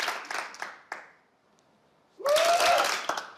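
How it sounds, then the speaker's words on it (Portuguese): A theatre audience at the Teatro Politeama bursts into applause during a live Portuguese comedy show. A short burst of clapping is followed by a brief lull, then a louder, sustained wave of applause with a whistle rising through it. "uma salva de palmas para o Teatro Politeama, por favor"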